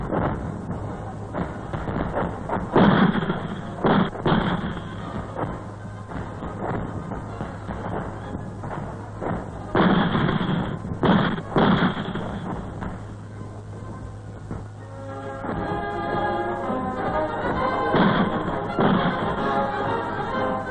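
A 4.2-inch mortar, a light artillery weapon, fires in heavy, rolling booms that recur several times over a steady low rumble, with a denser stretch of blasts near the end.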